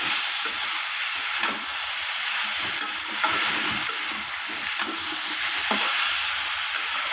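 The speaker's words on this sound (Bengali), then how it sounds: "এরপর দিয়ে দেব ভেজে রাখা উচ্ছেগুলোকে এগুলোকে আবারও সব কিছুর সাথে কষিয়ে নেব আমি ভালোভাবে" Fried bitter gourd is stir-fried with red amaranth stems in a pan, a loud continuous sizzle with steady hiss and periodic stirring scrapes, close up and without talk.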